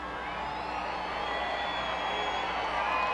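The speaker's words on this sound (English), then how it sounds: "Crowd making a little noise." A baseball crowd of nearly 40,000 at Angel Stadium on a Friday night, during a Twins–Angels game, makes a steady, distant roar that holds level throughout, with no single voice standing out.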